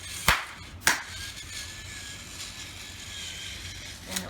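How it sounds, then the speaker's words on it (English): Two sharp hand claps, a little over half a second apart, ring out near and loud to command a Thames & Kosmos robotic pet kit, followed by a quiet room with a faint short knock near the end. "I'm going to clap twice"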